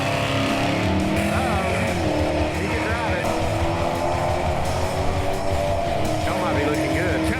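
A 1968 Chevy Camaro SS makes a drag racing pass, its engine roaring loud and unbroken throughout while people talk over it.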